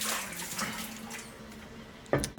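Drinking water runs steadily from a tap in a rural village setting, a soft continuous splash with a brief louder gush near the end.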